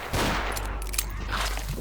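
Rapid revolver gunfire in the Doom mod Ashes, a dense run of loud, close shots filling nearly two seconds over a constant low game rumble.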